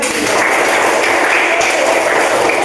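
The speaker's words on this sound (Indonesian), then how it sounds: "tepuk tangan" Students clap their hands in a classroom training session, a loud continuous wash of many hands clapping together at close range.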